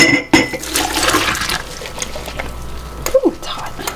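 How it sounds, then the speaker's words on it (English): Canning jars being washed in hot soapy water in a homestead kitchen, with splashing, running water and light glass clinks close by, alongside a few brief spoken words. "wash these with hot soapy water"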